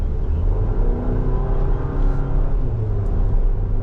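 A 2025 GMC Acadia Elevation with a turbo four-cylinder engine accelerates, giving a steady, loud mid-pitched engine hum and road rumble heard from inside the cabin, with no talk.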